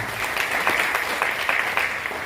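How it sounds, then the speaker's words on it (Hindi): Audience applause at a business seminar fills the whole stretch, steady dense clapping with repeated swells, fairly loud and close with no talk over it. "तालियां हो जाए इन सबके लिए"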